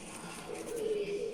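One of a pair of two-colored Giribaz flying pigeons with short feathered feet and white beak and eyes gives a faint, steady low coo that holds for about a second, with no voices over it.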